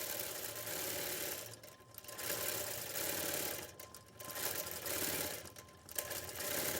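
A computerized sewing machine stitches a quilt pattern, running steadily in a fast, even whirr that pauses briefly between passes, fairly close and without talk.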